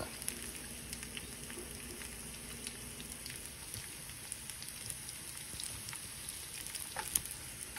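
Beef for Mongolian beef sizzles and spits in an overcrowded pan, a soft, steady crackle with scattered small pops that stays fairly quiet and even throughout.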